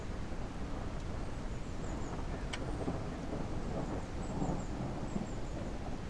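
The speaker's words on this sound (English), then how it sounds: "we got a storm outside" A steady, unbroken rumble of storm noise with rain and wind fills the scene in the Yosemite Forest Ranger video game, with no talking.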